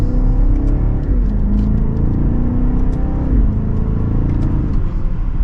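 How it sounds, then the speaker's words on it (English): A 2024 BMW X6 M60i SUV in sport mode pulls hard in second gear, its engine droning loudly and steadily from inside the cabin, with the pitch climbing and then dropping briefly at quick gear shifts. "let's go ahead and get the all-new X4 out on the road. And in sport mode, second gear,"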